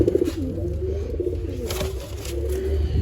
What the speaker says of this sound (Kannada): ಇವಾಗ ಎಲ್ಲ ಅಕ್ಕಿಗಳು ಆಡ್ತಾ ಇದ್ದಾವೆ